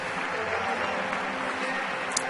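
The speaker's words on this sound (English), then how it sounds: "everybody applauding for them the last half inning" Stadium crowd at a Braves–Nationals baseball game in Washington applauding a troop recognition on a Sunday afternoon, a broad, distant, steady roar of clapping under a faint ballpark hum.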